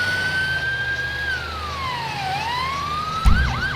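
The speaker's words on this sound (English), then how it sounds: "Put the siren scream so we don't have to stop." Police siren in the FiveM roleplay game wails with a long rising and falling tone, then shifts into a quick yelping pattern near the end, loud and close with a brief low thump.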